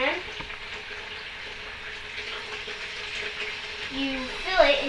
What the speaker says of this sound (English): you take hot water and you pour it until it's above the beans